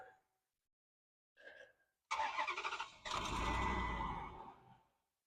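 An abandoned 2004 Dodge Durango V8 cranks with a short whirring starter burst, then catches and roars to life, settling into a loud, rough idle with an exhaust leak before cutting off.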